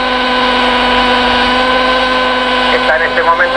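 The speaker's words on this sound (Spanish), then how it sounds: "El helicóptero acelerando." Vintage model helicopter engine revving up at an Igualada flying field, a loud steady whine with strong harmonic tones running throughout and rising toward the end, close by with no talk.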